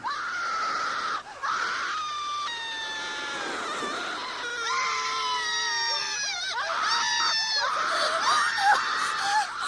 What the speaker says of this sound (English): Then the screams began.